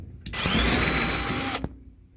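A power drill running in reverse to back out a screw while installing a clothes dryer's three-prong plug cord: one close, loud whirring burst of about a second and a half, starting and stopping sharply.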